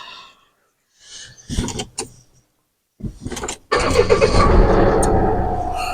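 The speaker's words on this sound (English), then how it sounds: "So let's start the car." A Volvo XC90 D5 diesel engine starting up, with a few clicks and short cranking attempts before the engine catches and settles into a loud, steady idle close by.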